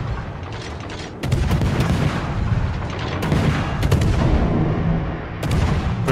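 Naval guns fire high-explosive shells in a warship video game, loud deep booms arriving in several heavy bursts over a constant rumbling background.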